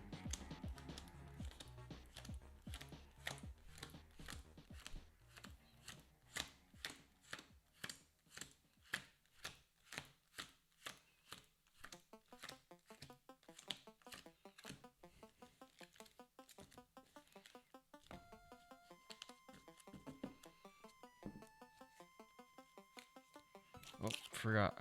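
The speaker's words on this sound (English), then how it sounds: "So we're going to shuffle this encounter deck up." An encounter deck of Marvel Champions game cards is handled and shuffled close by: crisp rhythmic clicks and taps give way to a buzzing riffle, then a few sharper snaps at the end.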